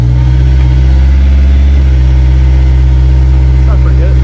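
Honda S2000 running with a freshly fitted Invidia N1 catback exhaust, a loud, steady low idle drone with a strong deep hum close by, holding evenly with slight variation throughout.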